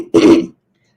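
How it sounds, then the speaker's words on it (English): A woman gives a single short, rough throat clear indoors, loud and close. Silence follows it. "She's always clearing her throat."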